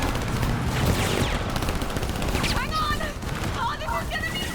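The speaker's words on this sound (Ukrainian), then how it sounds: "десь по нас ззаді стріляють" Bursts of rapid gunfire from behind crackle through a dense, noisy soundscape in the video game Split Fiction, with sharp shots cutting in near the middle and end over constant rumble.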